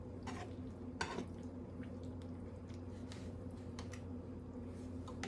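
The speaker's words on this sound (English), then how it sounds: "I'm just gonna stir, stir, stir." Cherries jubilee sauce with orange zest and vanilla is stirred in a pan, making soft wet squishing and a few brief scraping strokes over a low, steady background hum.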